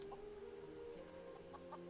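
Chickens on a farm in a modded Skyrim game cluck softly and faintly, with a few short clucks over a low ambient hum.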